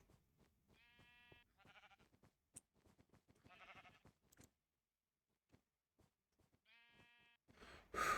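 Several bleats from a sheep in Minecraft, short wavering calls separated by pauses, with soft footsteps and small clicks between them, followed by a loud rustling burst at the end.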